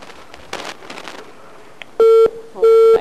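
A phone line gives two loud, steady electronic beeps in a row as a call drops, after a stretch of faint crackly line noise with a small click.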